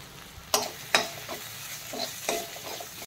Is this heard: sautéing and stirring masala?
yes